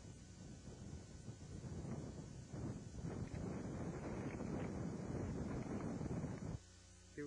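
Strong wind gusting across a mountain trail among boulders on Old Rag Mountain in Virginia, a steady loud rush buffeting the microphone that drops abruptly near the end.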